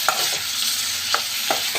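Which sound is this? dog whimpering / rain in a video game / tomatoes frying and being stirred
tomatoes frying and being stirred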